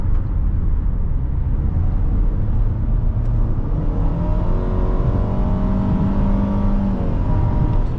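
A 2017 Nissan Rogue SV with a CVT accelerates hard, its engine note rising steadily into a smooth, continuous whine that holds near and loud with no gear-shift breaks.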